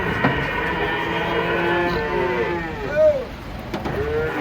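Giant cattle low as they are unloaded from a truck at a busy Eid livestock gathering, several drawn-out moos overlapping across the clip, one louder call near the end, over a steady crowd and engine murmur.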